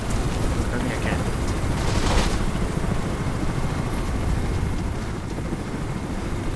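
Steady roaring rotor-like drone with heavy low rumble, loud and continuous throughout, with gunfire-like crackle mixed in, typical of video game helicopter noise, from Mirror's Edge.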